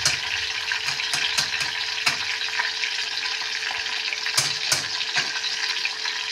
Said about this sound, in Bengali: গরম মশলা ফোড়ন দিয়ে দিলাম